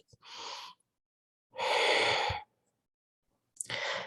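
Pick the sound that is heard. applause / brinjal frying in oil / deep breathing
deep breathing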